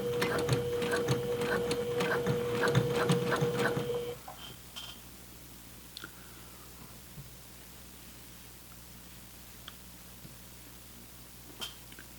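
A sewing machine runs a short burst of stitches on flannel pajama pants, a rapid mechanical whir that stops after about four seconds, followed by faint handling clicks.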